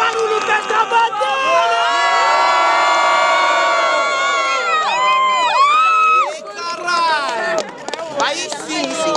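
Crowd at a student rap battle in Guarulhos, São Paulo, cheering, shouting and whistling loudly, with dense overlapping voices and piercing high whistles over a continuous roar.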